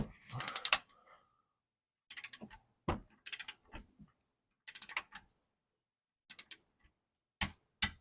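A torque wrench is worked on the oil drain plug of a Subaru Impreza, giving sharp, close mechanical ratcheting clicks in short bursts separated by silences, with no voices.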